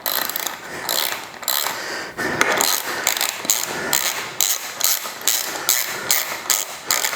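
A bottom bracket on a carbon bike frame is hammered off its tapered splines: a steady series of sharp metallic blows, about two per second, close and loud with no talking.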